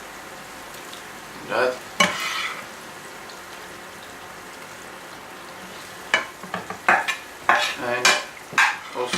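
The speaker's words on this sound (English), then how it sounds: "add all the mushrooms in the sauce" Mushrooms tipped into simmering sauce in a pan for meatballs, steady sizzle under clatters and stirring scrapes that bunch up toward the end, with a brief voice.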